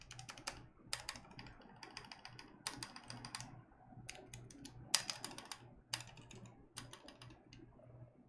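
Quiet keystrokes on a keyboard during a build, a soft clacking that comes in short clustered bursts with brief pauses between them, close by and alone.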